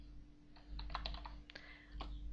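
Keystrokes on a computer keyboard while playing the Aardwolf MUD text game, a short burst of close, crisp clicks followed by a pause and a few more taps, over a steady low electrical hum.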